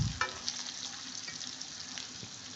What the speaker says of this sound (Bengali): দেখো, পটল ভাজা হয়ে গেছে।